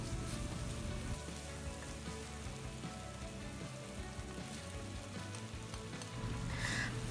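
Jajangmyeon sauce, seasoned with brown sugar, salt and syrup, bubbles and sizzles steadily in a pan, a soft continuous frying hiss with faint popping throughout and no talk.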